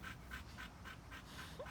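Tired Dogo Argentino puppies pant rapidly and rhythmically after play, quiet close breaths in a steady quick pattern with a faint whimper near the end.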